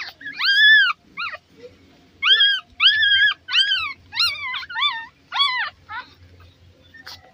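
Shih tzu puppies whimpering and yipping in a quick series of high, rising-falling cries, close by, with short gaps between bursts.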